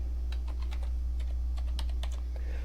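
Rapid keystrokes on a computer keyboard as a password is typed, a quick irregular run of light clicks over a steady low hum, close and fairly quiet.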